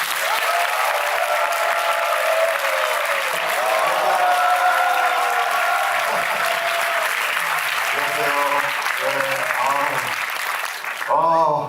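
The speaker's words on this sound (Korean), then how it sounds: "모두 큰 박수로 맞이해주십니다" Sustained applause from a large audience at a lecture by history teacher Choi Tae-sung fills the space, with voices and music breaking through near the end.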